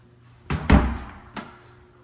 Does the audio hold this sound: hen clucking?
no